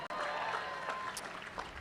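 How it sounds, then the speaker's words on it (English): A graduation ceremony audience claps for a graduate, a short burst of scattered applause from a crowd, moderately quiet and somewhat distant. "You can clap for him."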